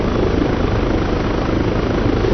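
A helicopter holds a steady hover in the ARMA 3 flight simulator, its dense rotor thump and turbine roar loud, close and unbroken throughout.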